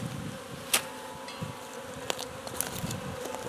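Honeybees buzz continuously around an opened hive during an inspection, a close, steady drone with a few sharper clicks and knocks from handling the hive.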